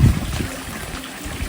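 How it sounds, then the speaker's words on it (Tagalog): Water trickling and dripping into a crayfish farming pond, a soft continuous splashing stream close by, with no voices. "nababawasan yung tulo ng tubig"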